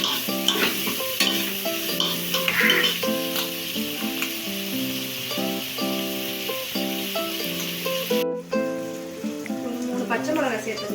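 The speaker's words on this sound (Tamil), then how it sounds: "இது பொன்னிறமாக வர மாதிரி நம்ம நல்லா வதக்கிக்கலாம்." Sliced onions sautéing in a pan for mushroom biryani, a soft sizzle with occasional stirring scrapes beneath steady tonal music, cut by a brief silent gap near the end.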